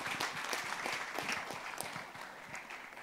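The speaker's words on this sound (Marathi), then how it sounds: "तेजस्विनी आणि वर्धासाठी सुद्धा जोरदार टाळ्या" A crowd claps at a Marathi movie trailer launch, a brief burst of mixed, overlapping hand claps at moderate distance, holding steady for a few seconds.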